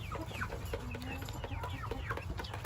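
Chickens, a mother hen with new chicks in a backyard flock, cluck steadily with soft chirps close by, a continuous busy murmur of fowl calls.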